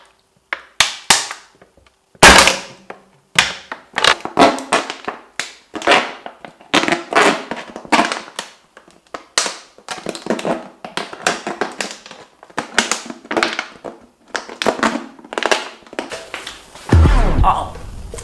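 Scissors or a blade cutting through a plastic juice bottle, producing a long series of sharp crackling snips and crunches, loud and close, while a person talks intermittently.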